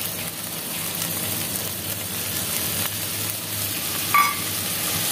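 Ground cumin and chili paste sizzling in a hot pan over an already-fried masala, a continuous dense frying hiss with a brief scrape of stirring near the end, close and steady, no talking.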